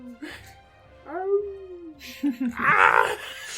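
A human voice imitates the echoing howl of a Hound Archon during a tabletop game: a single drawn-out tonal wail that rises, then slowly falls, and is followed by a burst of noisy, breathy voicing.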